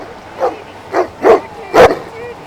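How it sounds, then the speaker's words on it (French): A dog outdoors in snow gives four short barks at a steady rhythm, close and fairly loud, each a little stronger than the last. "Vous pensez quoi de mon chien de chantier?"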